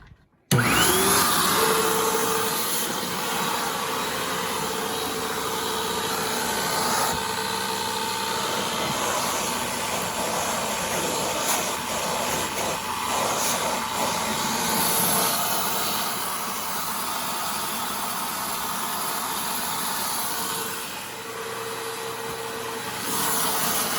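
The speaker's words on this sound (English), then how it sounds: "I've got my trusty rebadged Hoover. Turn this thing on." A rebadged Hoover vacuum cleaner switches on and runs steadily, a loud close whirring motor drone with a high whine that keeps going with small shifts in pitch, no talking.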